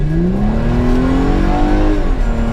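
A 2006 Mercedes SLK engine revs hard under full-throttle kickdown, its pitch climbing smoothly and loudly, then dipping briefly as the gear shifts.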